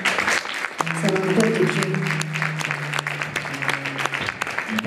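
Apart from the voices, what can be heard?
audience applause at a concert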